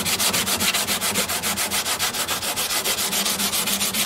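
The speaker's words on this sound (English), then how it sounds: "Now that I'm out in these bigger areas, I might go to the sanding block." Sanding block rubbed back and forth over the wooden body of a 12-string custom dreadnought guitar, a close, rhythmic scratchy rasp of quick even strokes with no talk.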